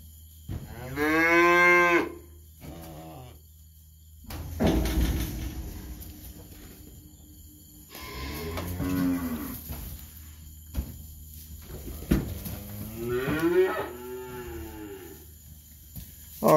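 Feeder calves and cows weaning in a barn moo loudly and close, in several long drawn-out calls spaced a few seconds apart, with quiet barn background between them.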